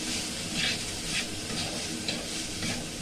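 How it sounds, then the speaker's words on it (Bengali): Chicken and vegetable mix with chili powder stirred in a pan for winter momo filling: a steady sizzle with soft, repeated scraping swishes of the spoon at an even pace, no talking. "নাড়াচাড়া করে নেব।"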